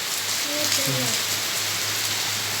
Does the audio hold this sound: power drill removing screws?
no